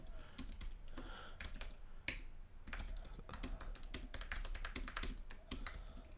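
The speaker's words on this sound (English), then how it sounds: "Sorry, I'm just typing on Twitter." Rapid typing on a computer keyboard, quiet and close, with irregular bursts of sharp key clicks and a few short pauses, with no voices.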